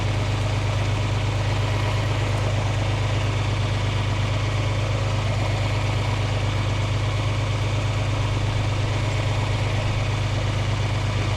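A tractor engine idles in third gear in a field being plowed, with a deep, constant low rumble and no change in pace throughout, with no voices.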